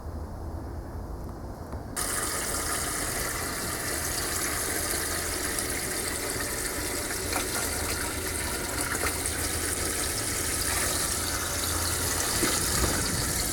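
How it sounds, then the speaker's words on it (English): Water pours steadily into a container holding washing soda, mixed into an electrolysis bath for derusting a heavily rusted small block Chevy engine; a continuous close gushing and splashing stream runs without a break, with no talk. "So I'm going to put a little water in there"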